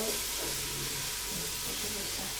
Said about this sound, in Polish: Oczywiście co jakiś czas mieszamy drewnianą